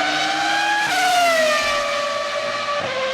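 A 1998 Formula 1 car's V10 engine screams loudly at the Belgian Grand Prix, its high revving whine stepping down through gear shifts as it races past, with no talk over it.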